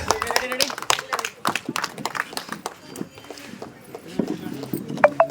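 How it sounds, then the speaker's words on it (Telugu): Audience applause for prize winners of a rangoli (muggulu) competition in a ward of Gajwel, Siddipet, with bursts of hand claps mixed with talk and crowd noise throughout. "సహస్ర టీమ్ కి గట్టిగా క్లాప్"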